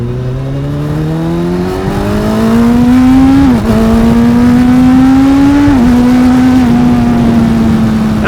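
A 2025 Honda CB1000 Hornet SP, a 1000cc motorcycle, accelerating hard with a loud, close engine note rising in pitch through the gears, with brief dips at each shift and no talk.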